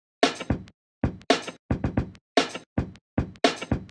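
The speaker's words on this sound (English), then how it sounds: "And then we've got a very simple kick and snare combo" Simple kick and snare drum combo for a lofi indie pop beat, dry punchy hits alternating in a steady, somewhat robotic pattern with silence between strikes, close and clear with no voices.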